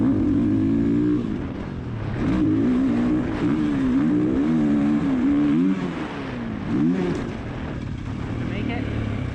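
Dirt bike engine in third gear, barely wide open while riding a track, droning loudly and steadily with rising and falling pitch as the rider shifts throttle, a voice talking over it.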